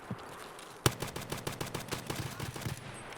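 Gunfire in the video game Escape From Tarkov: a sharp initial shot followed by a fast rattling burst of automatic fire, fairly faint and distant-sounding, with no talk over it.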